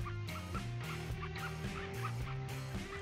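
Ducks calling in the hunting game The Hunter: Call of the Wild, a busy, repeated chorus of quacking and honking calls that keeps going steadily with no pauses.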